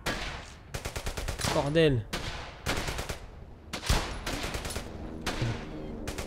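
Rifle and automatic gunfire in the World War II shooter Brothers In Arms: Hell's Highway, with dense bursts of rapid shots repeating across the clip, loud and close, and a man exclaiming briefly between volleys.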